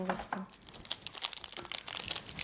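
A matcha snack packet from Japan is torn open and crinkled by hand, sharp plastic crackles and rustles in quick irregular bursts, close and fairly quiet, with a short voice at the start.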